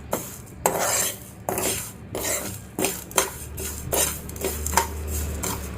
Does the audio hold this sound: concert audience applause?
no